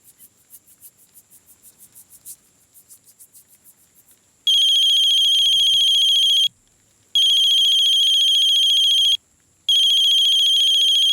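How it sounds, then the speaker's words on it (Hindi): A phone ringtone rings loudly in three long electronic bursts separated by short pauses, preceded by a fainter pulsing chirp. "ये इस समय क्यों फोन कर रहा है?"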